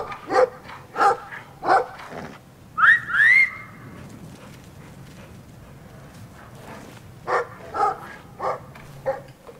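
A pet dog barking at noises, bursts of sharp barks in two clusters with a rising whine between them, loud and close, with quiet gaps between.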